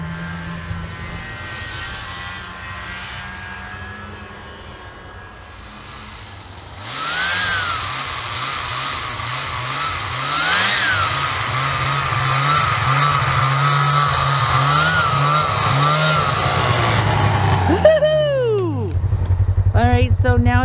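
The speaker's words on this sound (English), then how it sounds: "Hunter's riding around on the Skidoo 380 with his buddy Ben" A Ski-Doo 380 snowmobile rides on ice, its engine droning nearby and then swelling as it passes, with pitch sweeps from revving and a voice talking over it.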